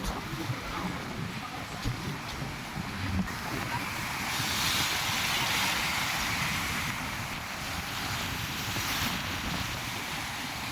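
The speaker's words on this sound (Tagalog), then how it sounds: "Rabi kusog sa bawod." Strong ocean waves wash in at a beach in Talisay, a continuous rushing surf with wind buffeting the microphone throughout.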